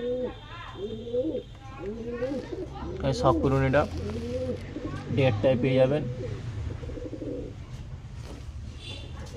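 Domestic pigeons for sale coo in low, soft burbles near the start, then someone talks over the birds in an open, busy market setting.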